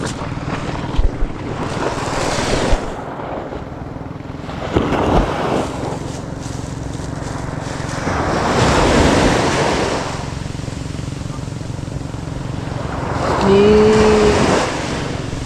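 Waves roll and crash in surges against a boat while strong wind buffets the microphone, with a brief engine-like tone near the end.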